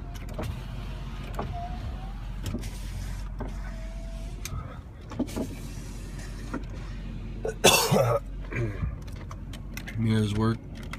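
Electric power windows on a 2004 GMC long-bed truck whir in short motor bursts, with keys jangling, a cough and some handling noise nearby.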